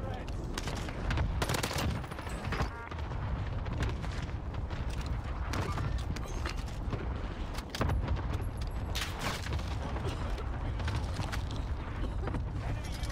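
Warzone gunfire crackles in dense, rapid bursts and scattered single shots over a continuous battle din, with the sound persisting throughout the thirteen seconds.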